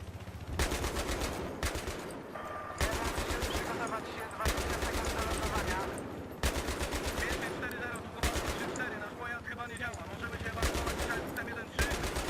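Rapid bursts of automatic gunfire from Battlefield 3 combat, repeating in several loud, dense volleys separated by brief pauses, with a voice speaking between and over the shots.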